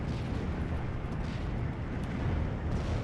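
81mm mortar fire in the World War II strategy game Steel Division 2 comes as a dense, low rumbling barrage of distant blasts, a continuous thundering roar without clear separate shots.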